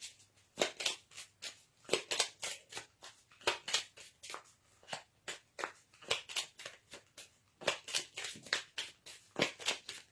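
Oracle cards from a deck of mythical and legendary creatures are shuffled and handled in a quick, steady run of crisp papery flicks and slaps, close up and with no talking.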